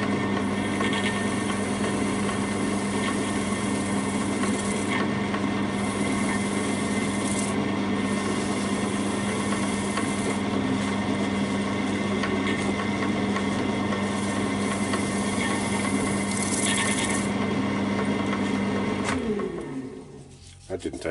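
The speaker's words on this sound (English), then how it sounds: "Put the lathe on just to 500, that's as low as I can go, and apply the polish." A wood lathe runs at a low 500 rpm while polish is put on the spinning piece, giving a steady hum and a soft rubbing hiss that go on without a break, then wind down and stop near the end.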